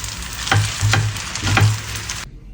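Kimchi pasta with basil stirred in a pan, a loud continuous sizzle with three scraping strokes of the utensil, close by, cutting off abruptly at the end.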